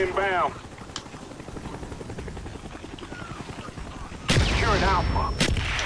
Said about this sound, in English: Doing work with my pistol.